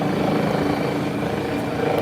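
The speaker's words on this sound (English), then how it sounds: "helicopter landing or not" Steady, close helicopter rotor noise, a constant thudding whir filling the whole stretch without a break.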